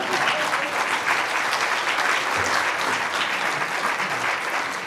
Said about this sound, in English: You're going to be clapping quite a bit.